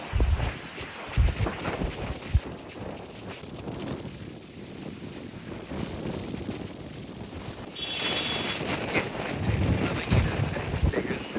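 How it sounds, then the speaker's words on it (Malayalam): Strong wind in Munnar during the monsoon roars and buffets the microphone throughout, gusting with low thumps and a constant rushing hiss. "കാറ്റ്"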